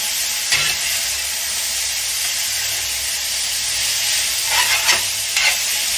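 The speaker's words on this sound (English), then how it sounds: "we're going to let this go around just a time or two and soften those onions up" Onions soften in hot grease in a skillet for spaghetti sauce, giving a steady close frying sizzle and hiss throughout, with a few brief stirring scrapes and no talking.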